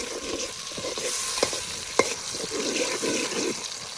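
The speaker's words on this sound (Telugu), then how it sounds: "ఇప్పుడు టమాటాలు వేసుకుందాం." Tomatoes frying in a pan for fish pulusu, with onions already cooked, giving a steady close sizzle broken by stirring scrapes and a couple of sharp clinks of a spoon against the pan.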